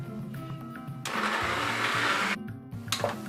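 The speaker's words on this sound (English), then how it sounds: "I'll just blend it." Blender whirring through tomato, onion and chili pepper for chicken stew, a loud motor roar of just over a second between quieter stretches with low hum, no talk.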